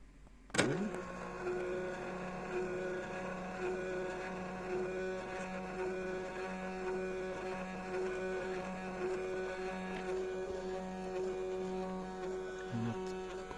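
A coil winding machine starts with a click and runs another 100 turns, giving a steady whining motor hum with tonal overtones that holds for over ten seconds before a small clunk near the end.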